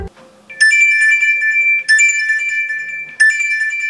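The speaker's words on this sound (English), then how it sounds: "it'll send an alert to your phone telling you that your meat is ready" A phone alert from a smart meat thermometer, used while barbecuing Chinese char siu pork, rings as a bright melodic tone that sounds three times in even bursts, loud and close, with no talking.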